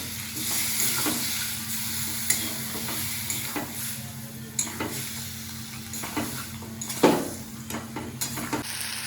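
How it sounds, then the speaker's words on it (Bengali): Mutton and spices sizzle and hiss in a pan with a little water while a utensil stirs and scrapes in irregular knocks, steady and close, with no talking. "কাঠিটা দিয়ে একটু জল দিয়ে দেবো, ভালো করে মশলাটা কষে নেবো"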